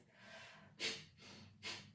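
Kapalbhati pranayama breathing: two sharp, forceful nasal exhales spaced under a second apart, each followed by a softer passive inhale, close and fairly quiet with no talking.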